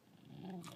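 A dog gives a soft, breathy whisper bark on command, a faint low rumbling growl that swells briefly, heard close and alone.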